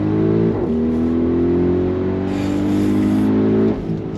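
A 2022 Audi RS Q8 performance SUV pulls hard at full throttle from inside the cabin, its engine droning loud and steady as the pitch climbs smoothly through a long gear, with a brief shift dip near the end.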